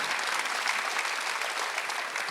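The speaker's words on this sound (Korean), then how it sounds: "박수하세요." Church congregation applauding during a Sunday worship service, a loud, dense and continuous roar of clapping hands filling the space without a break.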